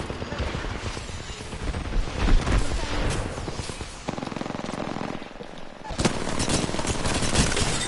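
Gunfire from Apex Legends, including a Longbow marksman rifle, comes as rapid close bursts of shots layered with game effects, dipping briefly and then resuming loud and dense, with voices faintly present.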